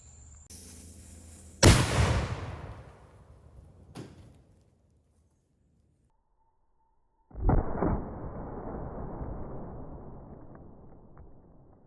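A shotgun fires an oversized Foster slug twice, about six seconds apart. Each shot is a loud, sharp boom with a long decaying rumble, and silence falls between them.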